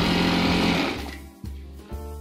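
A sewing machine stitches the seam of a night gown, its rapid motor whir running steadily and then slowing to a stop, followed by a couple of faint mechanical clunks.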